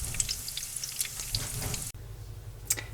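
Potato tacos frying in hot oil until crispy, giving a steady close sizzle with small pops and crackles throughout and a brief dip near the middle.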